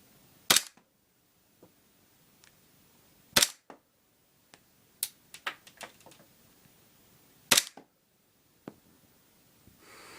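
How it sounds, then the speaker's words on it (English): A KWA KP45 ns2 airsoft gas blowback pistol fires three sharp, loud cracks spaced a few seconds apart, with quieter clicks and handling noises between the shots. "And there's 3 shots just so you can get the relative blowback on that."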